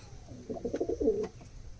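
A Giribaz pigeon gives a short, soft, throaty coo nearby, a single faint burst in a quiet room.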